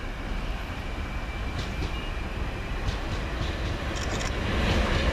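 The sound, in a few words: train arriving at Havant station, class 377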